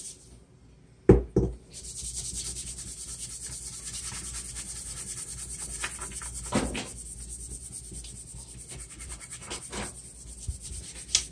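A couple of sharp knocks, then a steady scratchy scrubbing of heavy rust off the metal of an H&R shotgun that runs on continuously, close and fairly quiet.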